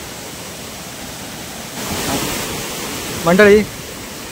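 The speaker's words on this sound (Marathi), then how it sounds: "ज्या ठिकाणून पाणी उंचावरून खाली पडतं ना तिथे. हे बघा तिथून खालती पाणी पडतं उंचावरून." Water drops from a height at a monsoon waterfall near Chandranagar village, Dapoli, in Konkan, making a steady, even rush of white noise. A voice briefly cuts in over it.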